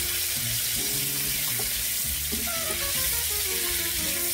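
Zucchini, squash and potatoes sizzle in butter and avocado oil in a pan, a steady broadband frying hiss running continuously, with faint clinks and stirring scrapes scattered underneath and no voices.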